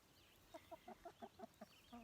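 A run of soft, rhythmic clucks from chickens, about eight evenly spaced notes, faint and close, with no talking.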